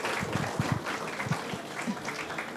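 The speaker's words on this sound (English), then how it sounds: "Let's have a big round of applause." Audience at a school physics seminar clapping to welcome the guest speaker, a short spell of modest, somewhat scattered applause in a hall.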